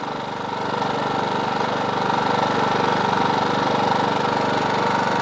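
GENMAX GM5500i 120/240V inverter generator running under roughly 41 amps of load, a steady close mechanical engine drone with a fine rapid pulsing and no talk.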